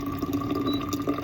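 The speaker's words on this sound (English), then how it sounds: "I'm going to pour out that water into my receptacle here, my Stanley" Hot water poured into a Stanley cup, a soft steady trickle and splash with a faint hollow tone, close by and alone.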